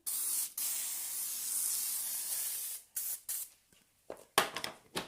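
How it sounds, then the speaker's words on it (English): Grease spray hissing from a can in several bursts: one long continuous spray, then a run of short, sharp puffs, close and fairly loud, with no talk. "I do have the spray here still, so let's grease it like we did with the previous one"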